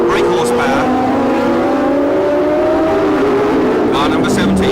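A 1976 Formula 1 race car screams at high revs around 11,000 rpm, a loud sustained wail that slides gradually lower in pitch, with a commentator talking over it.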